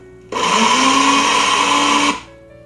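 A kitchen mixer grinder whirs loudly as it grinds green chilli, curry leaves, ginger and garlic in a mixie jar, a steady motor drone starting abruptly and cutting off after about two seconds.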